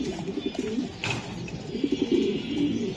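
Racing pigeons from a Bangladeshi club loft coo in low, throaty bursts, close by, with faint chirps and background noise throughout.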